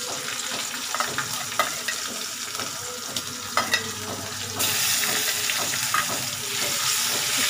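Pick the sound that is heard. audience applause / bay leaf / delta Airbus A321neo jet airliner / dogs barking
bay leaf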